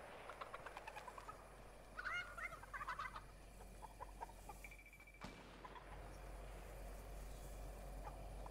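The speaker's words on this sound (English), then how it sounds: "Go away, chicken." A chicken in Fortnite clucks in a short burst of several close, bright calls amid game ambience, followed by a dull thump and a steady low hum.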